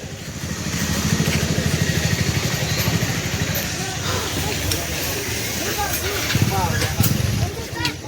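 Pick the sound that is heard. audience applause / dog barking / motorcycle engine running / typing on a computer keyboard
motorcycle engine running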